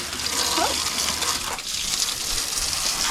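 Water gushing steadily from a garden hose while a grey Subaru STI is being washed, a continuous close hiss and splash with only faint voices in the background.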